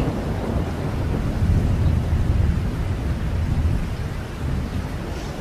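A thunderstorm of steady heavy rain and deep rolling thunder fills the air, the rumble swelling and easing in long waves beneath a constant hiss of rainfall.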